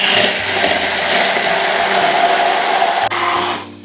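An electric hand blender whirs loudly and steadily up close as it emulsifies oil into mayonnaise, then winds down and stops near the end, with no talking.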